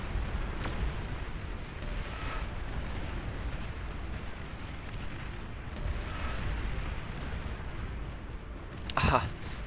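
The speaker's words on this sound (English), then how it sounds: "3 flagships started firing in the moment it appeared in the front line" Deep, rumbling artillery fire from flagships in the strategy game Beyond All Reason, a low continuous boom of distant shelling with a sharper blast near the end, faint under the game's din.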